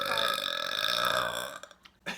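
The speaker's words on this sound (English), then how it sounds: "I burped 3 times. I have very pathetic burps." One long, loud, drawn-out human burp up close, croaking steadily for over a second before trailing off into brief fainter sounds and a short final catch of breath.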